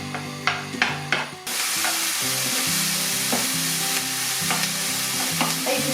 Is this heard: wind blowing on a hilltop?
no